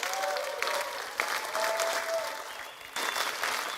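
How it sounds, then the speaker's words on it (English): Audience applause greets a speaker introduced at a Saturday morning training session, a steady dense wash of clapping that holds for several seconds with a brief lull before swelling again. "So give a big round of applause to John Foppe."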